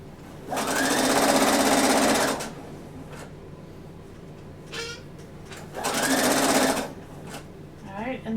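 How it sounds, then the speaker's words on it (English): A sewing machine stitches a sweater in two loud, steady bursts of rapid whirring, each lasting a second or two, with quiet pauses and a little talk in between. "just sew off the back when you get to that little jut out"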